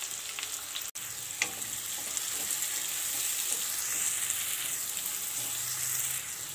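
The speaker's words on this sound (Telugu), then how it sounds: "జలకర కొంచెం ఫ్రై అయిన తర్వాత సన్నగా కట్ చేసుకున్న ఉల్లిపాయలు వేసుకోవాలండి" Thinly sliced onions frying in oil with cumin give a steady, close crackling sizzle with occasional scraping stirs, continuous throughout and without talk.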